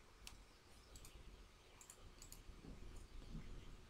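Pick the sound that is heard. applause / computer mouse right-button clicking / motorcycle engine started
computer mouse right-button clicking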